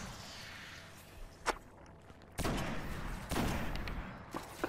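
Her Benevolence sniper rifle in Destiny, fired on the moon: a few sharp, isolated cracks spaced seconds apart over a low ambient background, with one louder shot followed by a sustained rumble.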